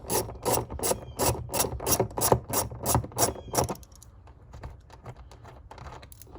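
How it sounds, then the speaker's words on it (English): A hand ratchet fitted with a 10mm socket loosens hood latch bolts on a 2007–2018 Jeep Wrangler JK, giving about a dozen quick, even clicking bursts up close before the sound stops and only faint handling noise remains. "That's all I'm using is ratchet, 10mm socket."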